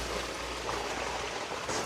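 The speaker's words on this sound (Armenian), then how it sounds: "այն նոր անձրևը եկավ" Rain falling outdoors, a steady, even wash of dense patter that holds at moderate loudness through the short stretch, with no voices.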